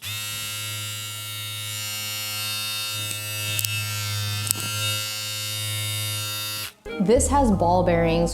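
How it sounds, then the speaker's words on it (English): A Babyliss Lithium FX cordless hair clipper with ball bearings runs with a steady electric buzz and hum for several seconds while someone talks over it, then the motor cuts off and speech continues. "let me also turn this on so you can hear the motor run"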